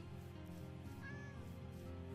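A brown tabby cat in the Minecraft video game meows, a close, clear cry standing alone over a steady hum of game background sound.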